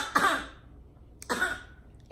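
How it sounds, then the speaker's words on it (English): A baby coughs twice, with a short gap between the two small, close bursts that sound like throat clearing. "The baby's just coughing at you."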